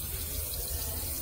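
Water runs steadily from a sink tap during handwashing, a continuous close splashing rush with no talk over it.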